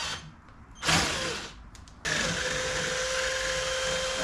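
A power drill bores through rubber while a car awning is mounted, a brief whir and rising bite followed by a loud steady motor whine that holds to the end, close up with no speech.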